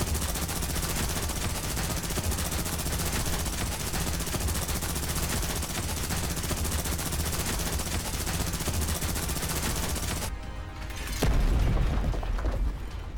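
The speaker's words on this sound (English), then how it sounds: "A thunderous explosion drowns out all other sounds." Continuous loud rumbling blasts and rapid gunfire roar for several seconds in the video game Girls' Frontline 2: Exilium, then cut off abruptly into a deep, booming tail.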